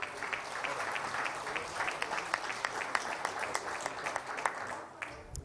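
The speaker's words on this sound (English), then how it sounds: "Can you please just give him a round of applause" A crowd at an outdoor emerging farmers' day event applauds a provincial official, sustained brisk clapping from many hands with sharp individual claps standing out, fading toward the end.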